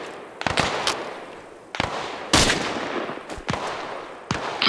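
Rifle gunfire in ARMA Reforger during a patrol drill: several sharp, loud single shots and short bursts spaced irregularly, each with a cracking onset and echoing tail.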